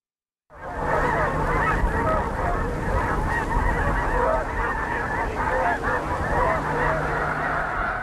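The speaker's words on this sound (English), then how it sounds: "We leave you this Sunday morning in the cacophony of snow geese at Missouri's Squaw Creek Wildlife Refuge." Snow geese call in a dense, continuous cacophony of overlapping honks at Missouri's Squaw Creek Wildlife Refuge, a steady loud flock sound that fills the whole stretch after a brief quiet start.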